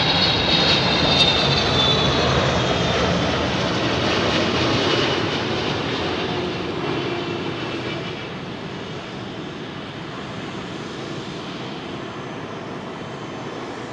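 A Qatar Airways cargo freighter jet at Heathrow roars loudly at close range, its engine noise slowly fading and dulling as the aircraft moves away, with no voices over it.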